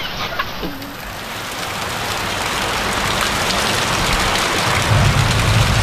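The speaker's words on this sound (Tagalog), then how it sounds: "Malakas ang kulog. Biro nyo ang ulan mga kabansot." Heavy rain pours steadily on surfaces outdoors at a flooded river mouth, a dense continuous roar with a brief chicken cluck near the start; no distinct thunder stands out.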